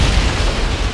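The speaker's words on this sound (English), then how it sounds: "the hazardous mixture of air and hydrocarbons found an ignition source, and there was a large explosion" A large refinery explosion from an ignited air and hydrocarbon mixture at a catalytic cracking unit, heard as a loud, dense roar of broadband blast noise that fills the whole second without a break.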